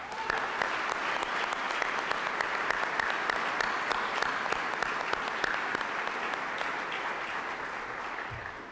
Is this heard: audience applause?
yes